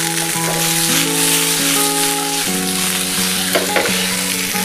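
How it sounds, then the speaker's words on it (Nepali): Diced onion and tomato sizzle loudly in a hot pan, a constant close frying hiss with occasional stirring scrapes and no voices. "मैले डाइस प्याज र यो टमाटर काटेको छु यसलाई म हालेको छु"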